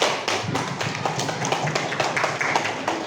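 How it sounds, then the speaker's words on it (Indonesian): Classroom applause for a student, a short burst of scattered hand claps with sharp uneven taps, fairly quiet and close, with no talk over it. "tepuk tangan buat Erlangga"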